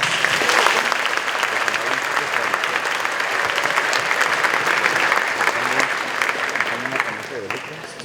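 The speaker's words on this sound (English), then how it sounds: "Let's give you all a round of applause." An audience of parents and guests at a high school senior night gives graduating students a long round of clapping, loud and even throughout, with voices murmuring underneath as it tapers off.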